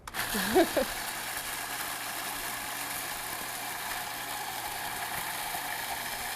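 A food processor switched on to mix dough with water: after a brief start-up clunk, a steady motor whir and hum runs evenly and fairly quietly to the end.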